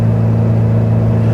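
A 1967 Volkswagen Beetle under way on a test drive, its carbureted engine giving a steady, loud, droning rumble with an even low hum throughout.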